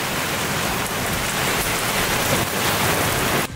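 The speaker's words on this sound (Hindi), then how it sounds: "आवाज़ सुनो कैसी आवाज़ आ रही है कितनी तेज़ है बारिश" Heavy rain pours down steadily, a dense, loud roar of drops hitting surfaces with no pauses, close by and continuous throughout.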